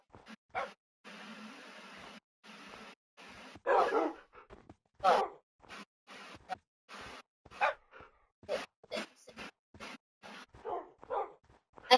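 Several dogs, including young ones, barking in short sharp bursts, spaced irregularly with brief yips between them, fairly close and loud against otherwise quiet surroundings.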